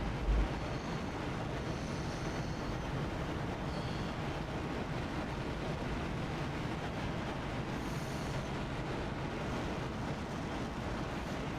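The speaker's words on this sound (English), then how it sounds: "that sounds great with that engine on full afterburner like that" A jet engine roaring on full afterburner in a flight simulator, a steady dense broadband rumble that holds at a constant level for the whole stretch with no talking.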